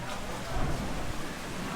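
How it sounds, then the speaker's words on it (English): Steady rain pours down on Koh Panyi, a stilt village island in Thailand, during the wet low season: a dense, even hiss of falling water with no breaks, close and fairly loud throughout. "The joys of low season in Thailand are here. Rain. We have a lot of rain."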